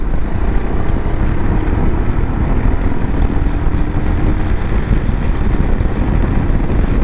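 A Royal Enfield Himalayan motorcycle accelerates onto a dual carriageway, its engine a loud constant drone heavily mixed with rushing wind noise throughout, with no speech.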